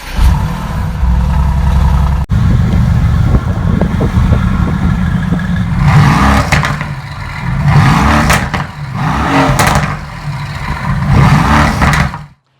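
A Mercedes-AMG GTS V8 engine revs loudly up close, a steady rumbling idle followed by several sharp throttle blips that rise and fall in quick succession before cutting off.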